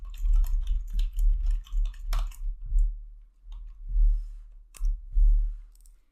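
Fast typing on a computer keyboard while installing a program, a close, loud run of key clicks in uneven bursts with short pauses and a few heavier thumps.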